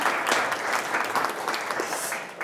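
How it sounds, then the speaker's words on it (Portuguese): A conference audience applauds at a talk on autonomous driving, a dense, steady clapping from many hands for a couple of seconds, moderately loud and without voices. "Aplausos."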